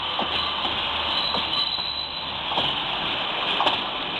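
A train running past at Doncaster station, a steady broadband rumble and rail roar with faint wheel squeal, fairly near and continuous with no talk.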